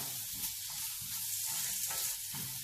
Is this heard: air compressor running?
no